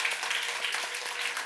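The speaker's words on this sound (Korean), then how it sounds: "사장님 저 박수 한번 주세요." Congregation at a young adults' church worship service claps in steady, dense applause for a short stretch, loud and even with no talk over it.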